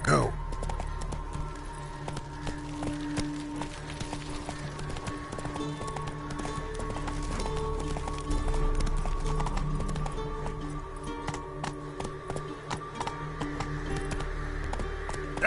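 The horse Roach gallops in a video game, with a steady stream of hoofbeats under game music and ambience. A person speaks over the sound at times.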